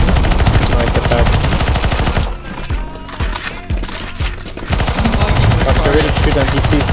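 Dense, rapid automatic gunfire in a CS:GO zombie escape match, loud and continuous, with a brief lull in the middle where scattered shots and clanks are heard before the sustained fire resumes.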